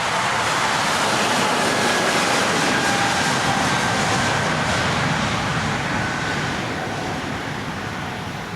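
A heavy Air France airliner takes off, a steady broad roar of jet engines holding loud and constant throughout, easing slightly near the end with no talk over it.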